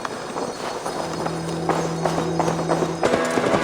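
Horse hooves clip-clopping in Assassin's Creed Valhalla, a steady walking rhythm of close, distinct hoofbeats over a low droning game ambience.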